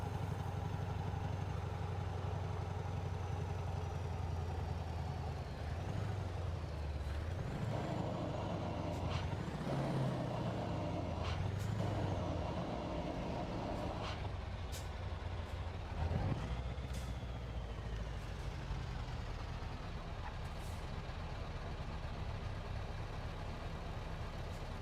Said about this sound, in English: the truck sounds great going down the road